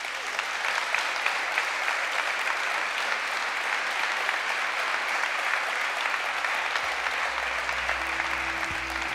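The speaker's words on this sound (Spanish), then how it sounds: "Un aplauso para eles." An audience at a Galician women's sports awards gala claps steadily and loudly for the whole stretch, a dense, even roar of applause, with a low musical tone entering near the end.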